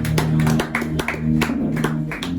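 A church congregation claps together in a hall, a steady run of sharp, close handclaps keeping rough rhythm over a low sustained hum for a couple of seconds.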